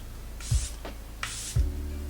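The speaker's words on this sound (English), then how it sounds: "I'm gonna set it with some setting spray." Two short hissing bursts of Charlotte Tilbury setting spray mist onto a face, close and distinct, each preceded by a soft pump click, with a quiet gap between them.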